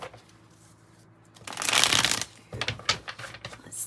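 Oracle cards from a 108-card deck are shuffled in a brief riffling burst after a quiet start, followed by a few softer shuffles and taps, close and alone with no talking.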